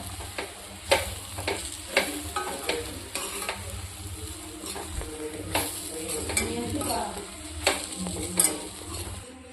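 A puffed rice ugani mixture is stirred in a hot pan, with a soft continuous sizzle under repeated rhythmic scrapes and knocks of the spatula, close and clear.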